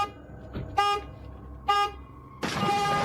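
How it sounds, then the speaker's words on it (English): A parked car's horn-style alarm blares in the night, sounding repeated honks: two short blasts, then a longer sustained one, loud and close over a quiet street background. "the car alarm goes off"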